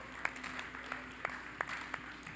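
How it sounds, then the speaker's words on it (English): Audience applause at a live glassmaking demonstration, faint and distant, with a handful of distinct claps poking out over a soft, steady background hum. "That deserves a big round of applause."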